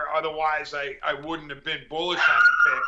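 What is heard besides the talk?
dog barking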